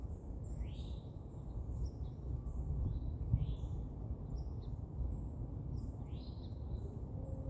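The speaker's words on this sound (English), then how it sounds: "You hear the bird?" Birds outdoors give repeated high, sweeping whistled calls, several spaced through the span and fairly faint over a steady low rumble of wind.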